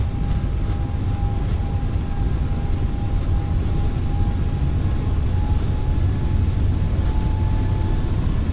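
Engines of an A321 airliner in the FS Labs flight simulator roar steadily during the takeoff run, a loud, dense low rumble with a faint constant whine, unbroken throughout and without talk.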